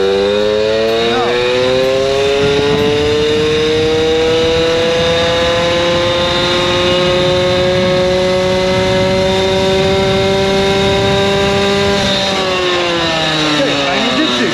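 Puch Maxi moped fitted with a Polini 70-72cc racing exhaust pulls away and rides off, its loud buzzing two-stroke engine holding a steady high rev before the pitch shifts near the end.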